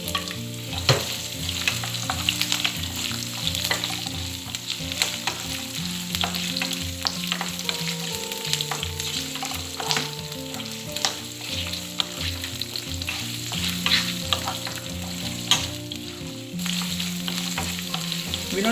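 Green chillies and dried stingray fish frying in hot oil, a loud continuous sizzle with steady stirring and scraping throughout, close up with no talk.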